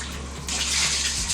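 Water runs steadily from a tap over the head of a medium, long-haired dog during a bath, a close, continuous splashing rush that grows fuller partway through.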